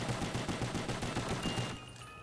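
Handgun fire in a zombie video game rattles out as a rapid series of sharp repeated shots, steady and fairly quiet, stopping near the end where a faint tonal sound lingers.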